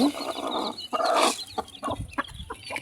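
A mother hen clucks among her chicks on a poultry farm, close and clear, a run of short, rhythmic clucks with faint chick peeps between them.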